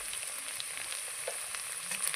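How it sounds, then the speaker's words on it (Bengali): Chopped garlic and onion frying in a pan for a Kerala-style dish, a steady close hiss and crackle of oil running evenly throughout with no voices over it. "ভাজা ভাজা করে নিই।"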